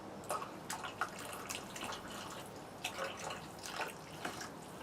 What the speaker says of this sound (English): a little bit of cold water from a height